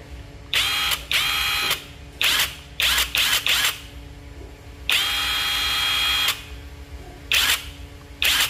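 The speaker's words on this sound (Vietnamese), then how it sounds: "khoan đấm búa này" A cordless hammer drill whirs close up in a string of short, sharp bursts separated by pauses, with one longer steady run near the middle, all without talk.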